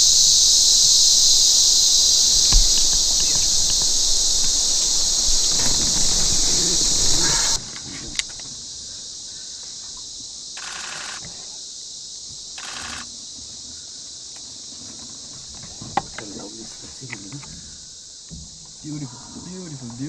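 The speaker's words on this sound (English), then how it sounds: "Cicada sound and everything in the forest. The jungle sound." Cicadas shrill loudly in the forest of Wilpattu National Park, Sri Lanka, a dense steady drone that cuts off partway, leaving quieter jungle ambience with occasional bursts and soft voices.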